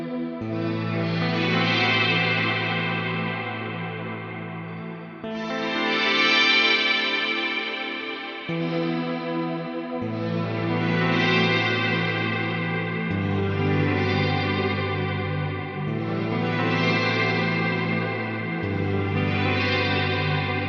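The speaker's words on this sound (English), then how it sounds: "Everything reverb is inside that pedal." Electric guitar strumming chords in slow repeating phrases, each swelling into a lush, spacious reverb wash with long shimmering tails.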